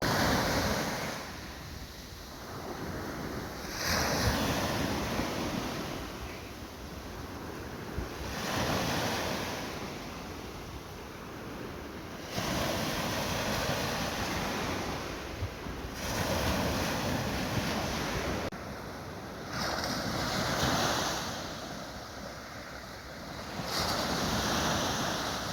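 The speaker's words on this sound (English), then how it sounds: "Let's check out these waves." Ocean waves roll and break onto a beach shore in the Philippines in repeated surges, mixed with gusty wind buffeting the microphone; no one speaks.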